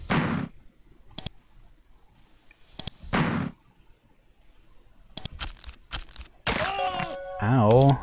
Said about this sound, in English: I guess he slung a bloody boulder at me.